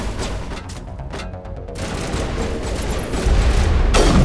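Gunfire from a sniper rifle in the video game Mass Effect 1 Legendary Edition, a dense run of loud shots and impacts with heavy low rumble building toward the end.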